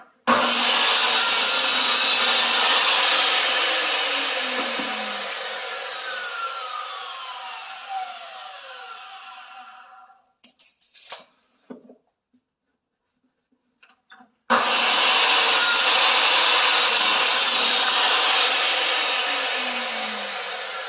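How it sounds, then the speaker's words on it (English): A miter saw cuts solid wood frame pieces for a Shaker door, with a loud sustained whine through each cut. It winds down into quiet clicks and handling noises, then a second cut roars up again. No speech. "if you're cutting them on a miter saw"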